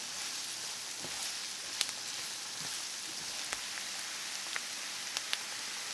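Chopped onions and celery sizzle in a pan with a steady, even hiss, broken by occasional faint pops and crackles, with no voices.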